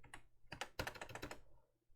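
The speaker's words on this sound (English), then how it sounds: "let me just see if I type the password correct" Quick bursts of keystrokes on a computer keyboard while a password is entered, close and clear, a few taps, then a rapid run of clicks, ending with a short pause and one final key.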